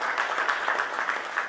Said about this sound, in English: Let's give them a huge, huge round of applause